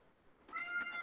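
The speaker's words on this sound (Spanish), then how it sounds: "Mi gata está reclamando algo, pero maulla y no para." A pet cat meows indoors, a close, fairly loud drawn-out cry that swells after a quiet start and holds steady to the end, with no voices over it.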